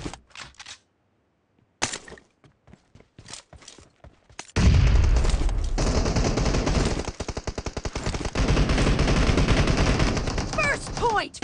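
Rapid bursts of automatic gunfire from PUBG Mobile team deathmatch, starting with a few sparse shots and then turning into a loud, sustained stretch of dense rattling fire, with game sound effects layered on top.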